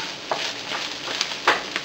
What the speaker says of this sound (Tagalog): Haluin lang natin ito sandali.